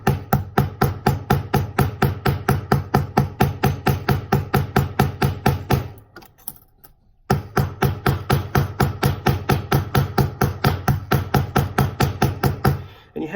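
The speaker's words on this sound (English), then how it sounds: "But I'm going to peen these down just a little bit more." Pin rivets being peened down with a hammer: a rapid, steady series of sharp metallic taps, close and crisp, pausing briefly before the even rhythm resumes.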